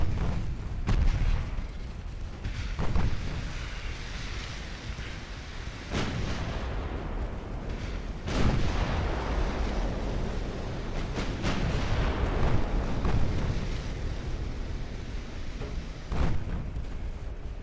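Huge 16-inch naval guns fire in Ultimate Admiral Dreadnoughts, heavy deep booms landing every few seconds over a constant roaring rumble of battle, with no talking.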